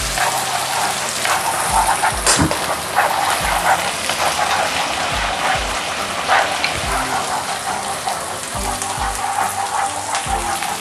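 Onions soften in a hot pan for chicken carbonara, giving a loud, continuous crackling sizzle that runs steadily beneath background music.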